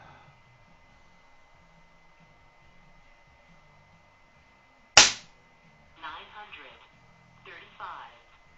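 A stock FX Impact M4 air rifle with no barrel clamp fires a single 34 grain H&N pellet at 25 yards, giving one sharp, loud crack that is followed by a couple of softer, brief sounds.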